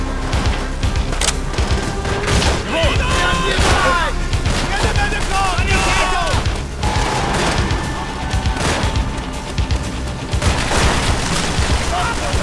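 Dense World at War video game gunfire, with rapid bursts and heavy booms stacked into a constant loud battle din, while voices talk through it.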